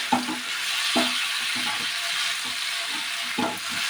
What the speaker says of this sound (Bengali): জলটা আমি এখন দেবো না, এটা কিছুক্ষণ কষানো হবে এরকমভাবে